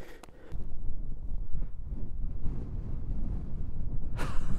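Strong wind on a snowy mountain peak in Romania, a low, close rumble of gusts buffeting the microphone that rises after a brief quieter start and keeps blowing steadily to the end.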